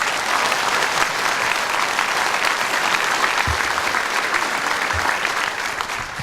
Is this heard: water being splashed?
no